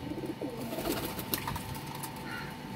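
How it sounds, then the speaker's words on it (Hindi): Breeder pigeons cooing softly at close range, low murmuring calls repeating over a steady background hum with a few faint chirps, no talk. "कलर वाइज भी वैसे भी माशाल्लाह ब्लीडर कबूतर हैं जी।"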